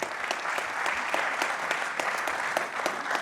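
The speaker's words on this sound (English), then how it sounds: "Give Keith a big round of applause." Audience at an awards event gives a warm, steady round of applause, with many individual claps distinct throughout and no talking over it.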